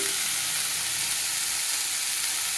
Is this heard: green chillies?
yes